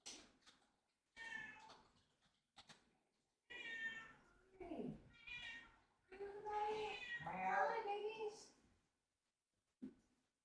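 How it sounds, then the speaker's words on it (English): Cats meow and caterwaul in the background with several loud, drawn-out, wailing calls in bursts, close and clear during a livestream. "All I can hear is cats in the background."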